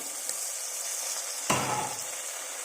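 Ginger garlic paste with coriander frying in a pan for spinach rice, a steady close hiss of sizzling oil with one sharp stir or tap midway, no voices.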